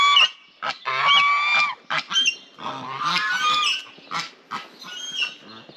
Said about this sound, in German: Gänse sind auf jeden Fall die besseren Wachhunde.